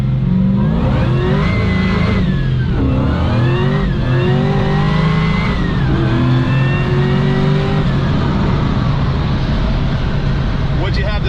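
A custom-built car cruises in 6th gear at about 1,900 RPM and 75 mph, the engine note rising in repeated surging sweeps as it accelerates hard, loud and close throughout, with people talking over it.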